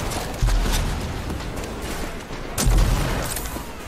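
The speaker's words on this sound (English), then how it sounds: "Oh shit, I didn't mean to blow the thing up." Explosions and gunfire in the shooter game Rage 2: two heavy booming blasts land about two seconds apart over a dense, continuous barrage of shots, loud and close throughout.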